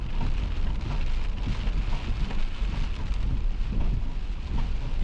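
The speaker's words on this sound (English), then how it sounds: "Luckily, it hasn't been raining for long." Steady rain drums on a vehicle during an overland trip through the San Rafael Swell, a dense close wash of patter with a low rumble underneath and no talking.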